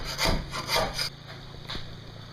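A sharp knife scrapes and cuts through stubborn glue on an RV bunk, producing three quick rasping strokes close up, then a quieter single scrape after a pause.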